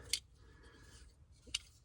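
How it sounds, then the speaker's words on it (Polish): A multitool with built-in scissors being handled, two crisp metallic snips or clicks about a second and a half apart, close and quiet, over faint background hum. "Mam takiego multitula, zobaczcie."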